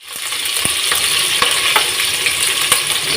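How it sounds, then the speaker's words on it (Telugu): Sliced onions hitting hot oil with whole garam masala in a pan for chicken majboos, a loud continuous sizzle and crackle with small pops scattered throughout, close and alone. "ఇప్పుడు ఉల్లిపాయలు అయితే వేసుకుందాం."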